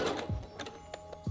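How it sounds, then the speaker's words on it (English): A home sewing machine set to a medium-width zigzag runs a short back stitch on elastic, giving a quick mechanical ticking and whirring with faint thumps, close and steady for about a second. "Make sure your machine is set up to a zigzag stitch on a medium width. That's me, good to go. And then let's start with a little back stitch."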